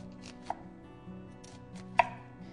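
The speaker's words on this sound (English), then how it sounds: "I'm just going to sort of cut a fan around the middle of the onion." A knife chops through an onion on a cutting board, giving two crisp, distinct knocks against the board with quiet pauses between them and no voices.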